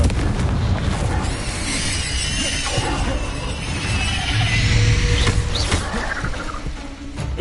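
Blasting spell explosions from a Harry Potter video game, a dense, booming wash of fiery bursts and rumbling debris that stays loud and continuous throughout, with no voices.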